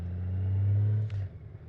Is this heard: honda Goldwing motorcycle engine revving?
yes